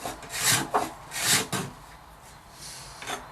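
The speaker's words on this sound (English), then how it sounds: "I have my handy card scraper and just find my angle and continue to scrape after it" A card scraper is drawn over guitar binding in several rasping strokes, each a close, dry scrape. Two longer passes come first, then shorter, lighter strokes follow.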